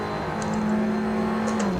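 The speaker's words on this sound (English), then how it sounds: "Right then, revving it out into 5th." A race car in the Assetto Corsa game, a Funcup with a five-speed sequential gearbox, holds a loud, steady engine drone that climbs slightly in pitch before dipping at a shift. It plays alone with no talk.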